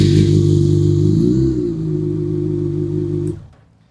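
Honda CBR600 F4i motorcycle engine running at a steady idle with a low, even throb, close and loud, then abruptly cut off near the end.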